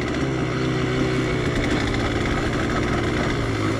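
A Yamaha DT 125x motorcycle on road tyres pushes off-road through knee-high grass, its engine droning steadily and loudly up close without a break.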